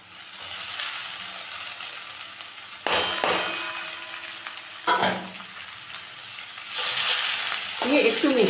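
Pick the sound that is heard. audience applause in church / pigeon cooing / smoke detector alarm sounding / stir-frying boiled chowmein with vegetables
stir-frying boiled chowmein with vegetables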